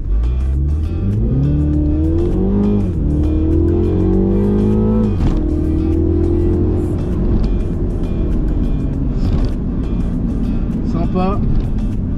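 A Mini Cooper JCW engine revs hard and climbs in pitch through several gear changes accelerating from standstill, loud and close, with a brief tire squeal near the end.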